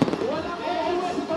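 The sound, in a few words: fireworks display exploding in the sky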